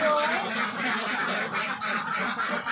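A flock of Khaki Campbell ducks on a duck farm quacks continuously, a dense, nearby chorus of overlapping calls, with a person's voice talking over it.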